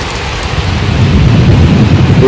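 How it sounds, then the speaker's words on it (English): Heavy rain pours down in the open yard of Brushy Mountain State Penitentiary, a dense steady roar with low rumbling thunder building underneath, growing slightly louder throughout. "look at it just raining coming down like crazy right now"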